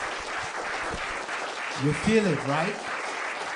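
An audience claps for a guest on a talk show stage, a soft continuous patter of applause running underneath a voice as he speaks briefly.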